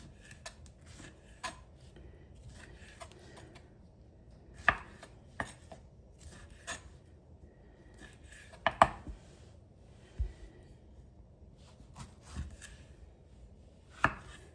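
Knife chopping tomatoes, cucumber and red onion for a salad on a board, irregular sharp chops spaced out over quiet kitchen background, some louder single strikes.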